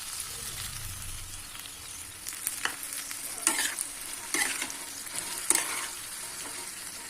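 Spice-mixed water poured over potatoes frying in a pan for dhokar dalna. A steady soft sizzle runs throughout, with several louder crackling bursts and stirring scrapes toward the middle and end.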